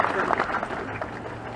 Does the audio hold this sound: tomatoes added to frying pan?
no